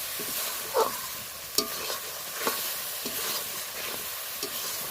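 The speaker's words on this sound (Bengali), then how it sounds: "জিরের গুঁড়োটা দিয়েও একটু ভালো করে নাড়িয়ে কষিয়ে নেবো" Fish curry with cumin powder frying in a pan and stirred, a steady quiet sizzle broken by occasional light scrapes and taps of the spoon, fairly faint and close, with no talking.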